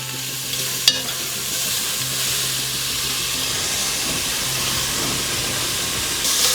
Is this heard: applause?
no